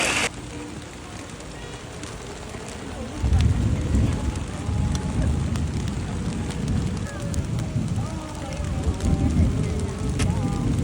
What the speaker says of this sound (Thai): ฝนก็ยังคงตกหนักอยู่เรื่อยๆค่ะ